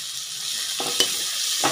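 Spices stirred in a hot pan with chili powder, a soft steady sizzle broken by a few quick spatula scrapes and taps, close and without talk.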